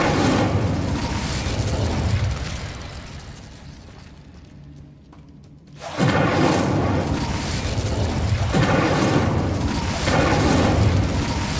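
Booming fiery blasts from the Incendio fire spell in Hogwarts Legacy, a loud roaring burst that fades into a brief lull before another heavy whooshing surge of flames rolls in and sustains.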